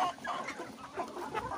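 Hens cluck softly in a chicken coop, a loose series of close, short murmuring calls with no voices heard.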